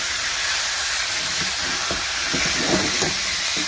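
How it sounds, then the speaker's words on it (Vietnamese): Pork belly stir-fries in caramel sauce until firm, a loud, steady hiss of frying with scattered clicks and scrapes from the spatula stirring the meat; nobody speaks. "Xào cho nó săn lại."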